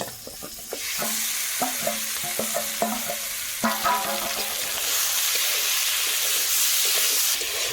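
Chicken pieces frying in a wok with onion and green chili, a loud continuous sizzle under regular scraping stirs, with some clanking strokes early on before the hiss evens out.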